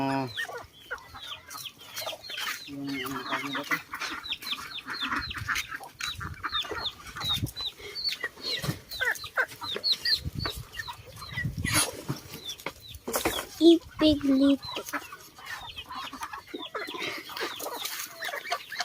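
Many chickens cluck and chatter continuously close by, a busy flock sound with occasional louder squawks and brief talking.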